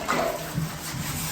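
Water sloshed and swished steadily around a plaster bucket to rinse it before mixing a second coat, a close, continuous watery churning with no talk.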